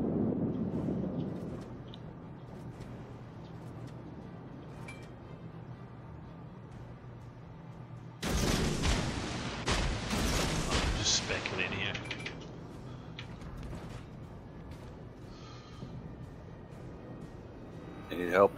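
Destroyer guns fire in World of Warships, a sudden loud burst of booming gunfire that rolls on for several seconds over a low engine hum, with someone talking during the quieter stretch before it.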